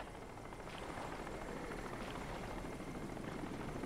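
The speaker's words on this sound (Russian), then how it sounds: "О, вертолетик." A helicopter in Crysis drones steadily in the distance, a faint, continuous rotor rumble under ambient game noise with no speech.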